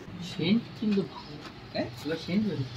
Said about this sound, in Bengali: আমাদের এখানে পায়রা এসে গেছে